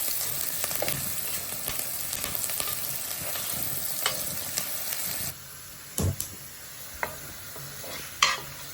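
Onions tempered in a hot pan for Jaffna-style chickpea sundal sizzle and crackle steadily as they turn golden brown, with occasional scrapes of stirring; the frying quiets midway, then a few sharp clinks.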